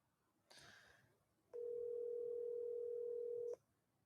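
A steady telephone dial tone plays as a radio show host redials a dropped caller; a brief burst of noise comes first, then the clean continuous tone holds for about two seconds before cutting off.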